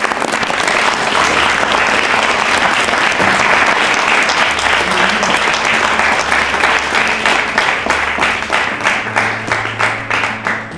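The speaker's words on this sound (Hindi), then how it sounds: "आप जोरदार तालियां बजाइए।" Loud, dense audience applause at a state-round quiz show award ceremony, sustained throughout and thinning toward the end into more distinct individual claps, with a faint voice briefly underneath.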